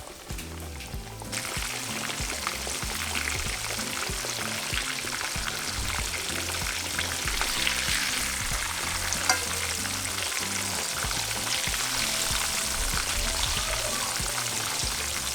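Milanesa slices fry in hot oil with a steady, loud, crackling sizzle, opening with a brief burst of bubbling before settling into continuous dense spatter that holds for the whole stretch, no voices present.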